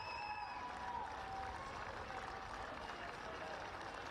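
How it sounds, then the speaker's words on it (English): At a Rugby Europe Super Cup match in Prague, the stadium crowd gives steady, distant applause and cheering while a commentator speaks over it. "And the crowd is loving what they've seen."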